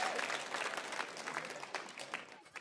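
Crowd applauding and cheering at a VALORANT Game Changers Championship esports match, a dense, steady wash of clapping that fills the whole stretch at moderate loudness and eases off slightly near the end.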